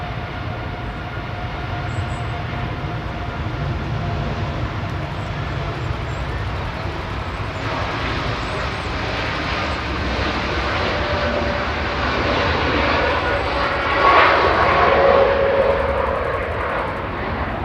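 A Dash 8 turboprop departs Manchester Airport for Mahon, its engines a loud, steady roar that fills the whole stretch and swells with a rising tone near the end. No one speaks.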